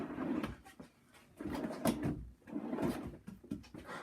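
Wooden drawers made from scrap wood slide in and out beneath a workbench, giving repeated rumbling scrapes and soft knocks in a workshop, with no talking.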